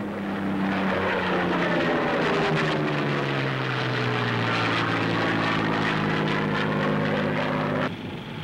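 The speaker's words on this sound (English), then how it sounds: "Off the coast of Tarawa, United States planes attack enemy shipping." Propeller-driven US carrier fighter planes roar loudly and continuously during an attack on enemy shipping off Tarawa, with engine drone and a descending pitch as aircraft pass overhead, the sound dropping slightly at the end.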